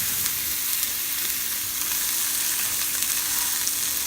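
Food sears in a very hot pan, a loud, steady, close sizzle with crackling pops that holds evenly throughout, with no voices.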